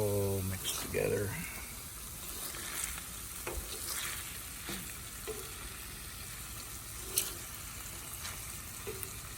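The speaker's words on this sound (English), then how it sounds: "We'll go ahead and mix these onions in with this burger." Onions stirred into burger meat frying in a pan at a campsite in Findley State Park, Ohio, a steady sizzle with scraping stir strokes, while someone talks over it.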